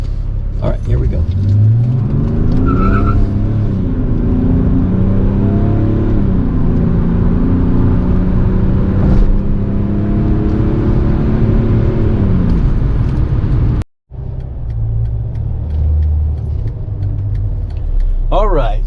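A turbodiesel car accelerating hard, heard from inside the cabin as a loud, continuous engine drone that climbs in pitch through the gears, with a brief dropout near the end before the engine pulls again.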